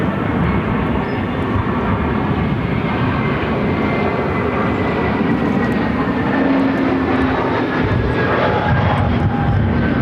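An American Airlines Airbus A321-200 arriving at Phoenix airport makes a loud, sustained jet roar with rumbling engine noise and a whining tone, steady throughout ten seconds with no voices.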